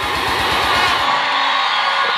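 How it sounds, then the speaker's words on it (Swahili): A large crowd at a political rally cheers and claps for the party chairman, a loud, dense roar sustained throughout, with rhythmic chanting or clapping pulses early on. "Naomba makofi ya kutosha kwa mwenyekiti wetu."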